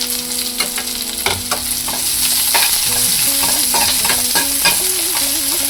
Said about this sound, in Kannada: ಈಗ ಈರುಳ್ಳಿ ಸೇರಿಸಿದ್ದೀನಿ.